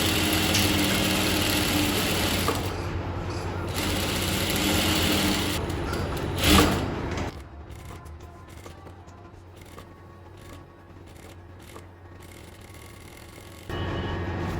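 A sewing machine stitches folded fabric piping, a continuous mechanical whir and rapid needle hum running steadily, dropping to a quieter hum partway through before resuming near the end.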